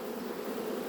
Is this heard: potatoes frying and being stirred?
no